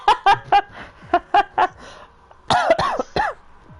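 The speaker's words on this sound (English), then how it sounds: "As you can hear, Tom, I've got a cough as well" A man with a cold coughs in a short series of sharp bursts, a few quick coughs then a heavier, rougher pair, close and dry with brief pauses between.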